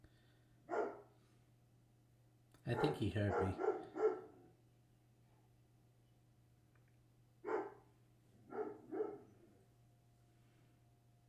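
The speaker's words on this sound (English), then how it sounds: "Why does he only bark when I start recording?" A dog barks indoors at night in short bursts, a single bark, then a rapid string, then a few more spaced barks, with a person talking nearby.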